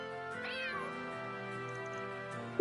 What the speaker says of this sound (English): It plays a collection of cute cat sounds I recorded in the Capitol.